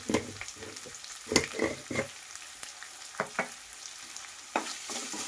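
Green chilli and capsicum fry in a hot pan for fried rice, a steady close sizzle broken by several loud spatula scrapes and stirring clatters at irregular intervals.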